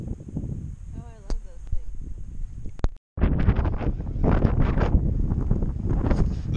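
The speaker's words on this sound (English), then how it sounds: "Wind picked up. It's super windy now." Strong gusty wind at a campsite buffets the microphone in loud, rumbling bursts, dropping out briefly partway before roaring back steadily, with a voice talking faintly early on.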